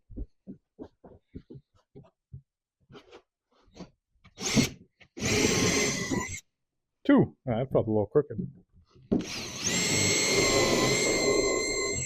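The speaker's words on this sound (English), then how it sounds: "Just going to start off with a little pilot hole here and then probably drill everything else separately" A power drill whirs loudly in two sustained bursts while drilling a pilot hole, the second rising steadily in pitch, with a person speaking briefly before and between.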